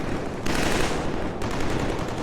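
Rapid automatic fire from an assault rifle in the shooter game Killzone 3, two dense bursts of continuous gunfire with a short gap between them, loud and close.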